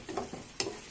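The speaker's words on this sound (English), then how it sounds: "So we'll keep frying it till then. In between I will be opening it and stirring it." Tomato masala fries in oil for an egg masala and is briefly stirred, giving a soft low sizzle with a couple of quick scraping strokes, close but quiet.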